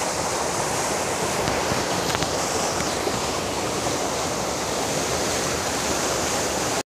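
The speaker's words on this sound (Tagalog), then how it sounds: "Pagbagsak ng tubig, bumabanda sa bato. Kaya nagiging fountain siya." A waterfall splashes onto rocks, a loud, dense and steady roar of falling water close by, unbroken for the whole stretch with no voices.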